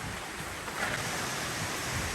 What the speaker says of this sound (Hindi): हवा चलने लगी